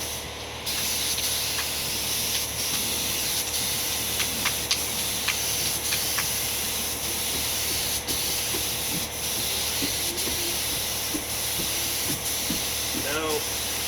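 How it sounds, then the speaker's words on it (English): A paint gun sprays stain onto a wooden deck, giving a steady, continuous hiss with faint ticks and rustles underneath. "I'm just going to show you how fast it is with a paint gun"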